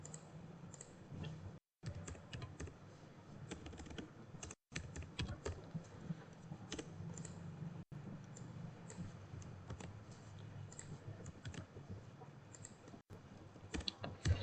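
Fingers type a name on a computer keyboard in quick, steady runs of soft close clicks, broken by a few brief pauses, with no one speaking.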